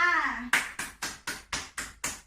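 A teacher claps her hands for her students, about eight sharp, evenly spaced claps that follow a short spoken phrase.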